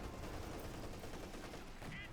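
Battlefield gunfire from a .50 caliber machine gun in the strategy game Company of Heroes 2 forms a quiet, continuous rattle of rapid shots, blurred and distant under a steady wash of noise.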